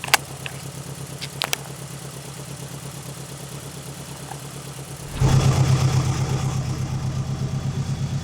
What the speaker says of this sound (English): Fired up, she's running.